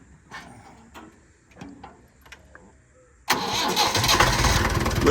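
A car engine cranks and catches after a stretch of quiet clicks and handling noises, then settles into a loud, steady running roar close by.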